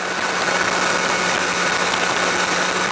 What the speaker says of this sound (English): To say the engine sound of this bike is awesome. I love the sound of this bike.